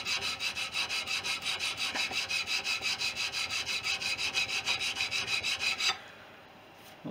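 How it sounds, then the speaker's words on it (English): Hand file draw filing a metal aileron bell crank: steady, even rasping strokes in a regular rhythm for about six seconds, fairly quiet and close, then stopping. "doing some draw filing, which gives us the sort of final"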